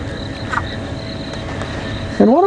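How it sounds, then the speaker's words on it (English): Frogs and insects call in the African bush at dusk at Djuma Game Reserve, a steady chirring insect drone with a few short frog croaks, one louder near the end, over faint engine hum. "listen to the frogs and the insects."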